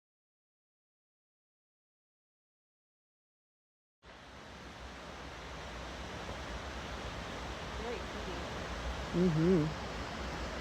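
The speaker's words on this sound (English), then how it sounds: "There's the waterfall." A small woodland waterfall swollen by heavy spring rain in Ohio roars as a steady broadband rush, starting abruptly after silence, with a brief murmured voice over the constant flow.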